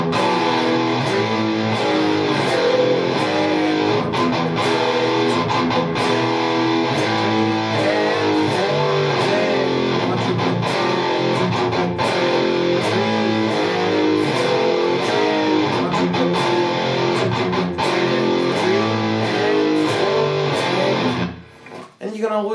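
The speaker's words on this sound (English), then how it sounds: "So the whole riff slowly would sound something like this." Distorted electric guitar plays a slow metal riff built on 16th-note triplets, a dense continuous stream of heavy chugging notes throughout that cuts off abruptly at the end.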